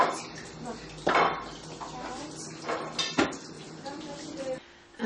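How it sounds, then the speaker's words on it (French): A chef mixing carrots in a kitchen, with clattering pots and cutlery clinks, a couple of sharper knocks, and scraping, close and busy under faint background voices. "Le chef est en train de travailler dans la cuisine. Mélanger les carottes."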